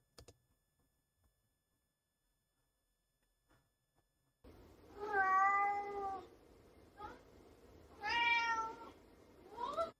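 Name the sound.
cat meowing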